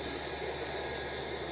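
An IndiGo airliner's jet engines give off a steady, even roar with a thin high whine held throughout, sounding fairly distant and continuous, with no talk over it.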